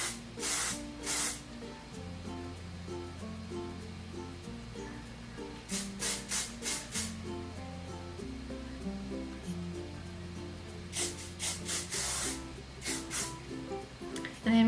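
Several short bursts of hairspray hiss from an aerosol can, grouped in pairs and quick runs, over soft steady background music.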